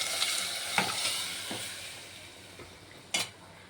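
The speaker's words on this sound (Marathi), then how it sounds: "आता हे पाहू शकता मी डाळ टाकते याच्यात" Cooked toor dal with green chillies being added and stirred into a coconut mixture in a pan, producing a gentle frying hiss with a few sharp clinks of a utensil against the pan.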